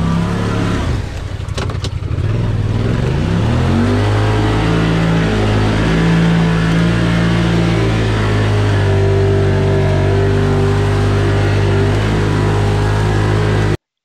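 A Honda Pioneer UTV stuck in mud in a canal revs its engine hard, rising from a low idle into a loud, sustained droning roar as it rocks back and forth, with a few sharp knocks early on.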